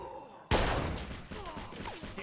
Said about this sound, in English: All right, Scaletta, take the shot.